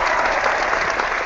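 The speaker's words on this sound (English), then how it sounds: "I'm going to give a round of applause to" A short burst of a crowd's applause plays as a sound effect on a tennis podcast, loud and steady clapping throughout.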